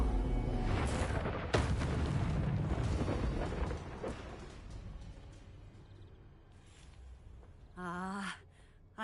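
The Confringo fire spell blasts in the Hogwarts Legacy video game as a loud booming burst that rumbles and slowly fades. A short voice sounds near the end.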